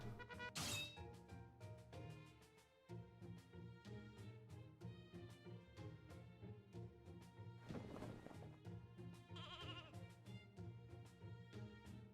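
Sheep bleats from a video game character's animation over steady game music, a few short nasal cries rising above the looping musical backing, with a crash-like hit in the middle.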